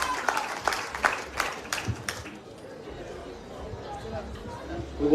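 An audience claps briefly at an official ceremony during the Fête patronale du Robert, honouring the association's sponsor Serge Masséno. Scattered claps fade after about two seconds into murmuring chatter and nearby voices.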